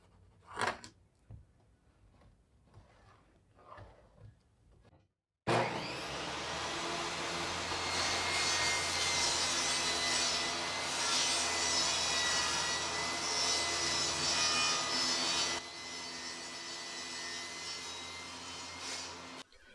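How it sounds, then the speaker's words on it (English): Table saw making a long rip cut through plywood in a workshop: a loud, steady whining saw roar starting abruptly and holding for about ten seconds, then dropping slightly as the blade spins on, after a few faint knocks. "I made the long cut on the table saw and the short cut on the miter saw"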